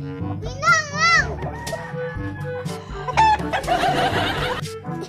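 A rooster crows in a long wavering call, then clucks and short crows follow, fairly close and loud, with faint voices in the background.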